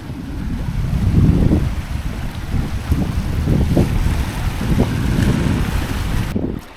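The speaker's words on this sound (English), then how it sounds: "We've got about 10 knots of true wind." Wind gusts across a sailing catamaran in about 10 knots, a rough low rumble buffeting the microphone in uneven surges alongside water noise.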